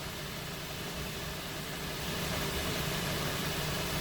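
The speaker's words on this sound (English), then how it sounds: "with the engine idling." A 2014 Audi A3 1.8 TFSI sedan, its engine idling with a fault affecting the coolant pump, gives a steady, even hum at constant level throughout, with no voices.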